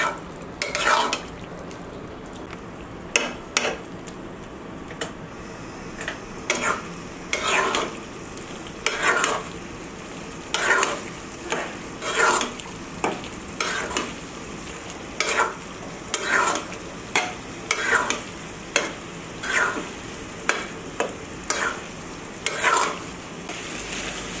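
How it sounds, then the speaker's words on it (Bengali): Beef tripe stirred and fried in oil in a pan, a steady sizzle broken by repeated scraping spatula strokes in an uneven rhythm, close and clear with no talking. "আমি আরও একটু এটা নাড়তে থাকবো নরম হয়ে আসা পর্যন্ত"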